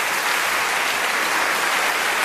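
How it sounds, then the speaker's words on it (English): Audience applause at a stage magic show, a dense, even wash of many hands clapping continuously and fairly loud throughout. "A round of applause for both our men."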